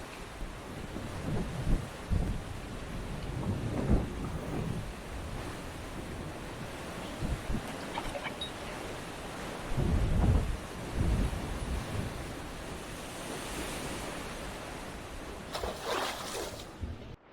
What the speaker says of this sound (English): Another squall out there.